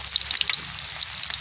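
Chopped onions dropped into hot oil with cinnamon sizzle and crackle steadily in a pan, a dense, close hiss with small popping bursts and no voices.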